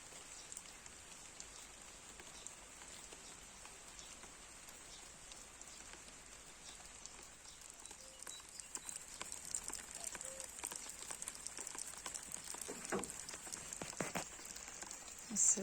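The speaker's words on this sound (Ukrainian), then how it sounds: "Це не я зі шланга. Це в нас такий дощ нарешті." Steady rain patters on surfaces nearby, growing heavier and denser with scattered drips toward the end.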